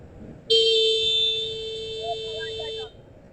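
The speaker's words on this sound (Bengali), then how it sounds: "এখানে বাজারের জন্য বারবার হর্ন বাজানো লাগে" A loud, steady vehicle horn blares continuously for over two seconds, a single sustained honk with faint chatter around it, on a road through a market area.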